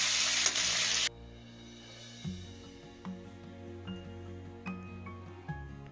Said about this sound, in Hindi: तो हम जो है फूल गोभी को उसमें फ्राई करेंगे।